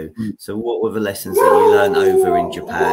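Dogs howl and yip in drawn-out, wavering tones, close and loud, mixed with someone speaking over them.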